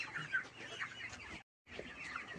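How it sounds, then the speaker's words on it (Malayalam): Broiler chickens clucking inside a chicken shed on a broiler farm, a dense, soft chorus of overlapping clucks and chirps, steady and faint, broken by a short silent gap. "ബ്രോയിലർ കോഴിയുടെ ഷെഡിൽ വന്നേക്കുക"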